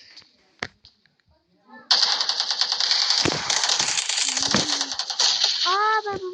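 Rapid gunfire from a video gun game, dense rattling bursts of shots filling most of the clip after a brief quiet start, with a short voice sound near the end.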